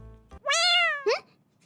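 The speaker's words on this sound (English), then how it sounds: "A cat's meow from out of nowhere brought me back to reality." A cat meows in the video game Heart Cage: one clear, drawn-out, rising and falling meow followed by a short second chirp-like meow, close and alone against a near-silent background.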